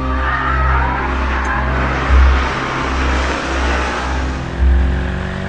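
A Volvo race car engine revs and accelerates hard, a loud steady drone rising and falling with sharp surges around the middle and end, heard alone without voices.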